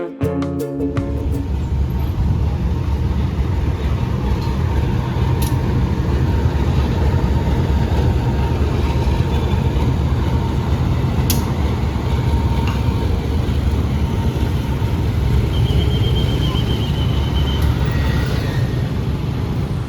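Diesel locomotive CC2018912 rumbles steadily as it pulls out, a continuous low engine drone with faint squeals and clanks, heard from nearby without talk.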